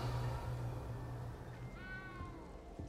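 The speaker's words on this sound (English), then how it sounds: "I can hear the cat. Where's the cat?" A single drawn-out cat meow in Hogwarts Legacy rises then falls over a low steady hum and background game ambience.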